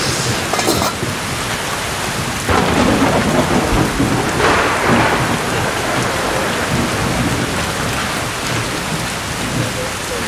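Heavy rain and rolling thunder from a typhoon in the UAE during an outdoor trip, a steady loud downpour with thunder surging in bursts throughout, no talk.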